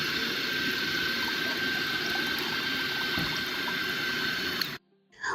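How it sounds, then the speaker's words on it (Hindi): A Balzano cold press juicer runs while water is poured in to clean it, giving a steady whirring, watery drone that cuts off abruptly near the end. "रिवर्स करने के बाद अब आप इसे दोबारा ऑन कर दीजिए और पानी यहाँ पर डालेंगे"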